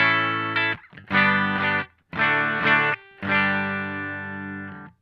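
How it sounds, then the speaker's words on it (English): Fender Stratocaster bridge pickup with a clean tone into a Boss Blues Driver: four separate strummed chords ring out bright and close, each decaying or cut before the next, with no talking. "My bridge pickup sounds like this."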